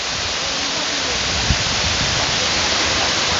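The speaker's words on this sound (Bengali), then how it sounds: "আর এখানে যে অন্য সাউন্ডটা আসতেছে সেটা হলো ঝর্ণার একটা সাউন্ড।" Broadband rushing water of the Jadipai waterfall in Bandarban, a steady, dense roar that fills the whole clip without pause, with one soft thump midway and no voices.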